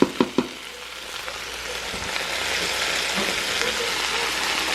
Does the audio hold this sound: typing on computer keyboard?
no